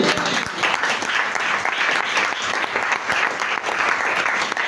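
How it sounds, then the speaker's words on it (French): A church congregation applauds during a sermon, giving steady, dense applause throughout that is close and moderately loud. "Je croyais que vous alliez applaudir."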